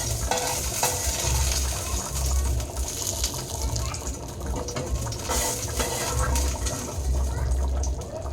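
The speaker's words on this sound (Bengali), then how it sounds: "ফোড়নটা দিয়ে দিয়েছি" Tempering spices (phoron) sizzling steadily in a hot pan of boiled food, a continuous crackling fry with occasional stirring scrapes, close and fairly loud, with a voice talking over it.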